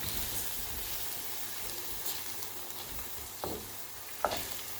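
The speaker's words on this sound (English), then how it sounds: "we're going to stir this up and get it all mixed up" Rancher's pie filling is stirred in a cast iron skillet, with a steady soft sizzle and a few sharp scrapes and taps of the spoon against the pan, no talking.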